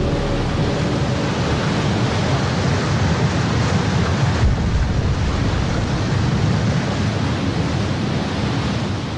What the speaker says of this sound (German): Ein anderer macht Bilder von den Wellen, die das Gelände überfluten.